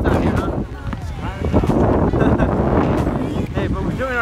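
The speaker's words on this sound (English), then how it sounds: "it's real windy" Strong outdoor wind in Venice buffets the microphone in heavy, rumbling gusts, with a voice talking underneath the roar.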